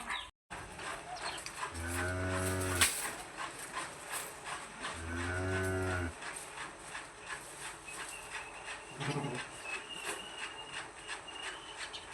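Cows moo in a cattle shed at evening feeding time, two long, loud, low calls in a row followed by a shorter, fainter one, amid faint clatter and background noise.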